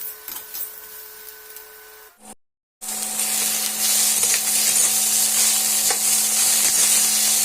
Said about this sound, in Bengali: বেগুনের আলুটাকে ভালো করে ভেজে নেব